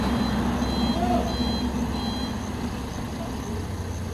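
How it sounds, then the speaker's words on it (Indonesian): Truck reversing alarm beeping in a steady repeating rhythm over a loud rumbling diesel engine, recorded outdoors near a hill climb, with no talk. "kok pakai gigi mundur"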